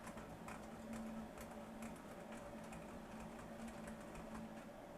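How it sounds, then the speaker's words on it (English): A 2002 Ford Ranger car stereo's CD mechanism runs its self-test with a faint, steady whir and a rapid, printer-like ticking that continues for about five seconds, with no talking. "The CD should go through its little self-test."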